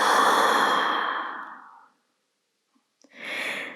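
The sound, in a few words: exhaling breath out through the mouth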